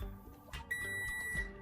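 A multimeter sounds a continuity beep while probing the timer switch of an electric fan: a steady high electronic tone runs through most of the short moment over low background hum.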